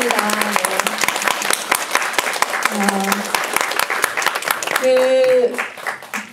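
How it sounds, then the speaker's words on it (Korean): An audience applauds at a screening and talk for the Korean independent film The Hill of Secrets, celebrating 10,000 viewers. Loud, sustained clapping fills the room while voices call out and speak over it. "박수 한번 부탁드리도록 하겠습니다"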